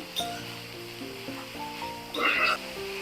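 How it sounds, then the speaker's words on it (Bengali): Bitter gourd and potato pieces sizzling in hot oil with browned onion and garlic, a steady close frying hiss with a brief louder burst as the pan is stirred. "আমি হচ্ছে পেঁয়াজ এবং রসুনটাকে একটু হালকা ব্রাউন কালার করে নিয়েছি তারপর আমি উচ্ছে এবং আলুর কুচিটাকে দিয়ে দিলাম"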